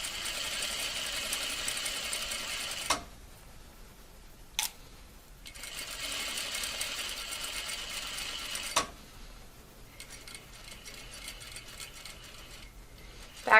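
A sewing machine runs in bursts, stitching a plain half-inch seam in fabric. Its steady whirring hum stops and restarts several times, separated by quiet pauses and a few soft clicks, nearby and moderately loud.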